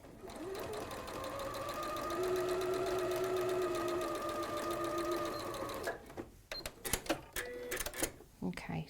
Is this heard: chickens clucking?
no